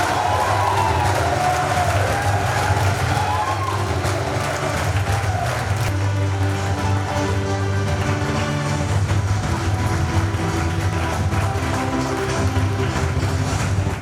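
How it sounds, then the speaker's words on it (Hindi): A crowd at a career guidance seminar gives loud, continuous applause and cheering, a dense, unbroken roar of clapping with a low hum underneath. "जोरदार ताली हो जाए"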